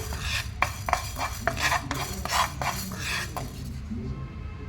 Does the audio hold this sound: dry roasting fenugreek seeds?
yes